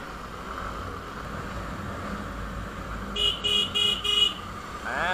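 A Hero Xtreme 160R motorcycle horn gives a run of short, fairly loud honks, four quick bursts near the end over steady traffic and road noise.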